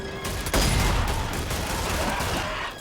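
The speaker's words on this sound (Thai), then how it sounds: "กูยิงจนหมดแม็ก" Sustained weapon fire emptying a magazine at zombies in Zombie Army 4: dense, loud rapid shooting after a short opening, continuing almost to the end, with no talk.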